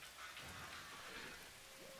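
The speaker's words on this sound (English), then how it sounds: "Seems to be raining." Rain falling in a train simulator game at a sawmill, a steady, faint hiss of rain with no other distinct sounds.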